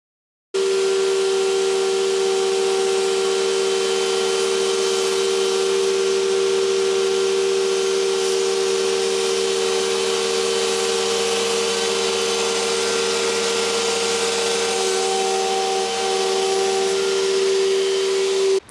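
A router table with a straight twin-flute bit runs a steady, loud whine while cutting a groove in a wooden panel, holding a continuous tone from start to finish.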